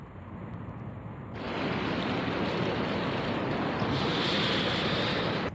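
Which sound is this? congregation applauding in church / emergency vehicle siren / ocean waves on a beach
ocean waves on a beach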